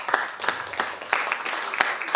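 An audience at an environmental science lecture applauds, a steady patter of many hands clapping together at moderate loudness.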